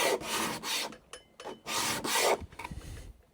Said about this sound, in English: the abrasive's taken more off on what was the furthest edge away from me